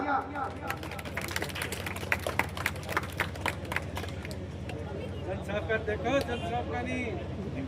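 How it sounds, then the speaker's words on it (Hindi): A crowd at a local civic ward gathering claps to welcome the SDM, with sharp individual claps scattered over the first half. The clapping sits under nearby talk and a murmur of voices, fading later. "जोरदार तालियां"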